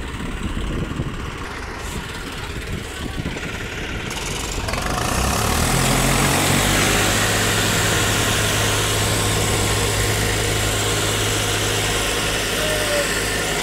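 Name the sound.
Swaraj 735 tractor engine revving while pulling a trolley from mud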